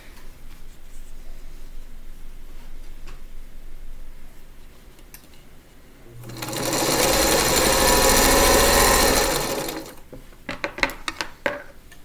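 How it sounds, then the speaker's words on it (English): Sewing machine joining three quilt block pieces for an Alpine Cross sampler quilt: quiet handling and rustling, then a steady loud run of stitching for about four seconds, followed by light clicks and fabric movement. "we're gonna sew these three together"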